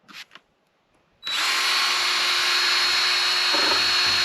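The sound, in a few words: sanding down a window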